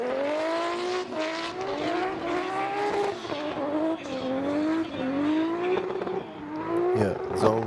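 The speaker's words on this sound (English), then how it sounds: "He just stayed on the rev limit, just hung out the whole time." A drift car holds its engine on the rev limiter through a qualifying run at Fuji International Speedway, a loud, stuttering high whine rising and falling in repeated bursts with tire squeal near the end, while commentators talk over it.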